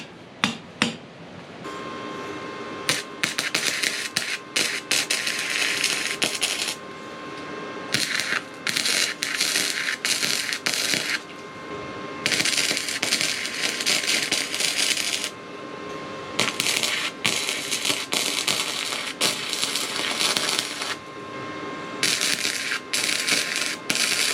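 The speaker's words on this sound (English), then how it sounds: "It's gonna be the first weld done by me ever in my life." A cheap Harbor Freight welder laying a beginner's first weld, heard as several loud runs of harsh, sputtering arc crackle broken by short pauses, with a faint steady tone running underneath.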